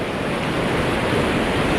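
A strong river flows through a snowy remote mountain area, making a steady, loud broadband rush of water with no pauses, close by.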